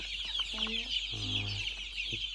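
Several Andijan black chicks cluck in short, broken calls close by, over a constant high-pitched hiss of background noise.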